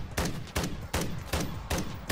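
Full-auto gunfire from a pack-a-punched weapon in MW3 Zombies with glitched audio, heard as five loud evenly spaced bursts, each a sharp attack followed by a decaying rumble, roughly every 0.4 seconds, no talk over it.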